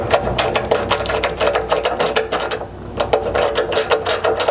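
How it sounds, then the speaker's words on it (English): A 12mm socket ratchet works a bolt off a parking brake cable bracket on a 5th-generation Toyota 4Runner, giving loud, fast rhythmic clicking in close runs with a brief pause midway. "you will need a 12mm socket to pull the bolt for that parking brake cable bracket"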